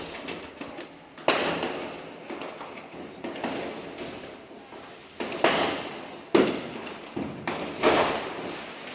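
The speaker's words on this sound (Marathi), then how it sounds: "बाहेर मस्त फटाक्यांची आतिषबाजी चालू आहे" Firecrackers burst outside during Lakshmi Puja celebrations in scattered sharp bangs, about six loud cracks with softer pops between, somewhat distant and echoing.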